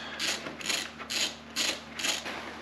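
A ratchet tightens a coolant bolt on a Kawasaki ZZR1400 motorcycle, making five quick, evenly spaced bursts of clicking, close and fairly quiet.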